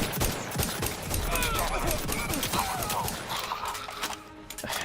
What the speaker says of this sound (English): I feel like I'm shooting every 5 fucking seconds, man.